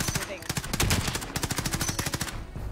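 Rapid automatic gunfire from the battle royale shooter Warzone crackles in dense, repeated bursts throughout, loud and close, with faint voices underneath.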